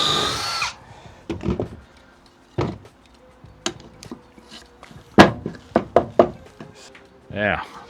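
A power drill driving screws while a door is fitted on a square drop camper, heard as several short separate whirring bursts and knocks with pauses between them, close and fairly loud, with a voice speaking in between.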